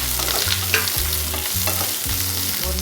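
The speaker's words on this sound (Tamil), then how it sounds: "அதையும் சேர்த்து நம்ம லைட்டாக 1 நிமிஷம் வதக்கி எடுத்துக்கலாம்." Onion and capsicum cubes sauté in oil in a kadai pan for kadai paneer, a loud, steady sizzle with repeated scraping stirs at a quick, regular rhythm.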